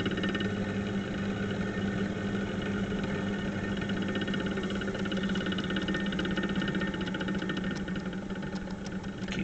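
A pottery wheel spinning steadily while porcelain is thrown, a constant motor hum and whir with faint vibration, even and unbroken from start to finish.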